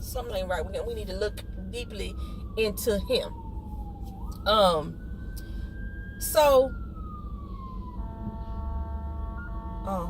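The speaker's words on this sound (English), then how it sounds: "That was the fire truck going by." A fire truck siren passes in the background, a long wailing tone that sweeps slowly down and then back up under steady conversation, with other siren tones joining near the end as it goes by.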